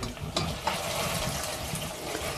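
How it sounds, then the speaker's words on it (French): Water pours steadily into a pot of gently simmering oil and vegetables for semolina, a continuous close splashing rush that stays loud from start to finish. "Une fois que l'huile commence à frémir un peu, il faut ajouter de l'eau."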